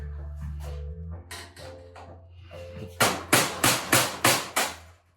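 Six loud, evenly spaced hammer blows ring out on metal, knocking out a rivet, after some lighter handling noise and a low hum, each strike sharp with a short decay.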